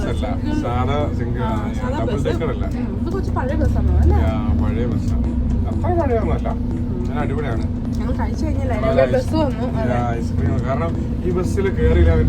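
Steady engine drone and road rumble from inside a moving bus in Canada run continuously beneath close, ongoing conversation between passengers.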